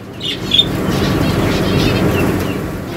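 Busy outdoor market din with live ducks, chickens and pigeons chirping and calling over a steady crowd murmur, a sharp squawk early on.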